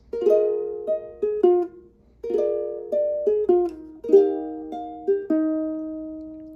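Ukulele chords strummed in three short groups, each a few bright downstrokes ringing briefly before the next, with a pause between groups; no voices.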